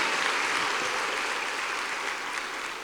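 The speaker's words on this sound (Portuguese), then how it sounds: "Aplauda o Senhor, dê um brado de vitória." A church congregation applauds in a dense, steady wash of clapping that fills the room evenly and fades slightly toward the end, with no talk over it.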